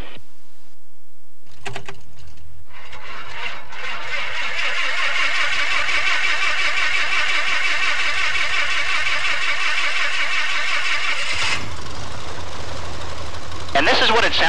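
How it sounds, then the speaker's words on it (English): A Piper Cherokee 140 aircraft engine cranks and fires, then runs loud, rough and uneven while missing on one cylinder, before cutting out near the end. "This engine is actually missing on one of its cylinders."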